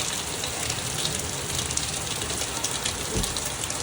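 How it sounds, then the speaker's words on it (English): Heavy rain pours down in a steady, dense hiss that fills the whole stretch evenly, loud and close, with no voices over it. "it just started downpouring raining"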